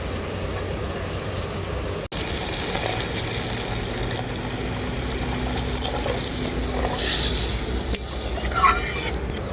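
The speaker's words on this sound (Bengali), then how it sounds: "এরপর আমি এর মধ্যে দিয়ে দেব পরিমাণ মতো জল" Water is poured into a pan of frying pointed gourd (potol), and a loud hissing sizzle with bubbling fills the scene, steady and close after a brief break near the start.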